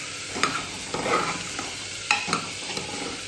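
Food frying in a pan with turmeric and salt, a close steady sizzle punctuated by sharp scraping strokes of a spoon stirring, with no voices heard.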